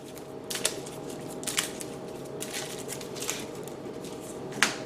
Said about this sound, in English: So we got to shuffle up my hand again.